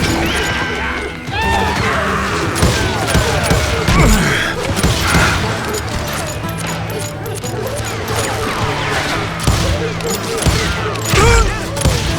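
Rapid gunfire and loud crashing impacts from the Wild West shooter Call of Juarez: Gunslinger, dense overlapping shots and smashes over a continuous battle din with shouting voices mixed in.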